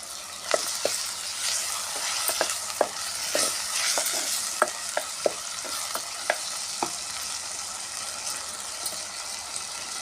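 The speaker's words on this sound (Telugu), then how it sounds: "ఉల్లిపాయ ముక్కలు వేగినాయి. టమాటాలు వేద్దాం." Onion and tomato pieces fry in a pan for a cauliflower curry, giving a steady soft sizzle broken by sharp clicks of a spoon stirring against the pan, heard up close with no talking.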